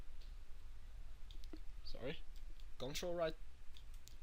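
A computer mouse right-clicks while modeling a Minecraft head in Maya: a few soft, brief clicks in a quiet room, with a short stretch of muffled speech in between.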